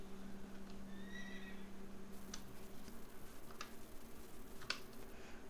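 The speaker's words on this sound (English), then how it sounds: "Let's try and get this horse." A horse whinnies softly in the video game Quinfall, followed by a few faint clip-clop hoof ticks against a quiet background hum.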